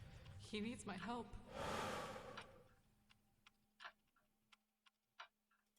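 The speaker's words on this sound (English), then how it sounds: "the audio has the clock in it already" A clock ticks in a musical soundtrack, sharp regular ticks that ring out clearly after a breathy gasp and some vocal sounds at the start, with sparse quiet gaps between the beats.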